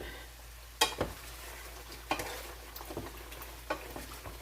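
Sauce sizzling in a hot pan on the stove while being stirred: steady frying hiss with a few sharp scrapes and clinks of the spoon against the pan, close up and without voices.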